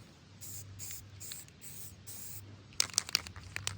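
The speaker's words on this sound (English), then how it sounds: "we are using just your generic Rust-Oleum, again, satin black" Rust-Oleum satin black spray can painting in short hissing bursts, about five quick sprays close by, followed by rattling and clicking of the can.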